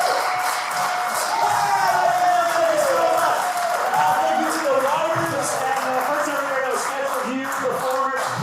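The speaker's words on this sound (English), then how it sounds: "Please give a round of applause for Black Market Bologna and Ryan McKee and Knievel" Crowd at a live improv comedy show breaking into applause and cheers, a steady wash of clapping and whoops filling the room while a voice talks over it.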